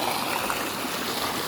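Stream water flowing steadily near a river, a constant broad rushing burble at moderate level with no voices.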